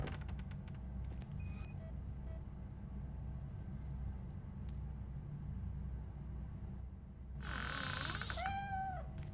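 A cat in the video game Robocop: Rogue City gives a couple of faint, high meows, one early and a clearer drawn-out meow near the end, over a steady low rumbling game ambience.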